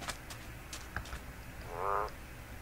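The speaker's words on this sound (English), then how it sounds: "There we go. There's that frog." A single frog croak from the Minecraft CrazyCraft mod, a short buzzy burst in the latter half of the clip over a faint game background, with no talking.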